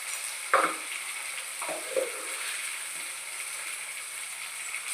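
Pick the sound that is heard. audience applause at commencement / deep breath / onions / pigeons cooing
onions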